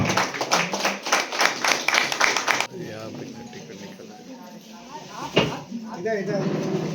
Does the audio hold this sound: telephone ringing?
no